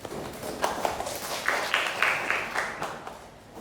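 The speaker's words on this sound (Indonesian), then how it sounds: "Oke, tepuk tangan" Clapping from a class of students during a teaching session, a fairly faint, loose patter of a few hands with several sharper rhythmic claps in the middle, in a roomy space.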